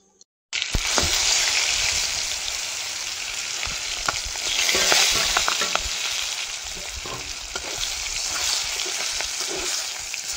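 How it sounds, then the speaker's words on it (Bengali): Prawns frying lightly with salt and turmeric in a pan, a loud, steady close sizzle that starts abruptly after a moment of silence and continues with occasional stirring scrapes. "চিংড়ি মাছটা লবণ হলুদ দিয়ে হালকা করে ভেজে নেব,"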